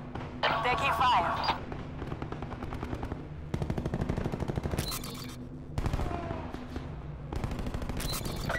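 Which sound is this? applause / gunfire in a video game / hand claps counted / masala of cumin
gunfire in a video game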